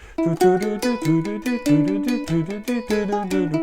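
Ukulele chords plucked in a steady, lilting rhythm, bright and close, with each strum's attack clearly audible.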